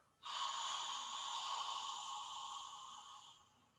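A single long, breathy exhale lasting a few seconds, steady and airy with a soft rushing hiss that eases off slowly at the end. Close and quiet.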